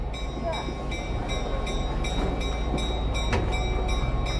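The Skunk Train rolls along near Fort Bragg, California, with a steady close rumble and regular rhythmic clicking of wheels over rail joints, plus a faint high whine throughout.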